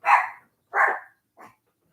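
A tiny five-pound dog barks from upstairs in a home, giving two sharp barks followed by a softer third yip, fairly close and clear with no talk over it.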